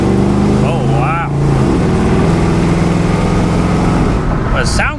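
A 1964 Pontiac GTO's stock engine rumbles loudly and steadily at idle throughout, with a brief rise in revs early on while a person speaks over it.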